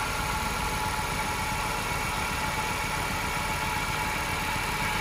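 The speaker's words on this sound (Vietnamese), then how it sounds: "Máy đang nổ các bác nhé, máy nổ rất là êm luôn." The engine of an imported Korean Hyundai Getz idles with a smooth, even hum that holds at a constant loud level throughout, with no talking.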